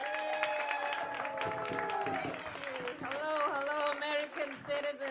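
Audience applause at a comedy festival semi-final as the next contestant is brought on, clapping running under the voices of people talking and a few shouts.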